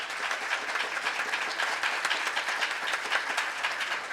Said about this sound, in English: Applause for Franklin.